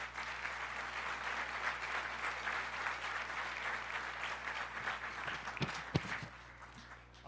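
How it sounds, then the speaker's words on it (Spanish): Audience applause at a representative assembly session, a steady dense wash of clapping from many hands that holds for several seconds before thinning out near the end, with a few sharper individual claps standing out. "les damos un fuerte aplauso de que nos acompañen el día de hoy"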